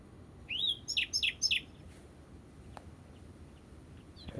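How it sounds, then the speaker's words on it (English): A common nightingale sings a short phrase: a rising whistled note followed by a quick series of three or four sharp, bright chirps, clear but somewhat distant over faint background hiss. "Right, the common nightingale."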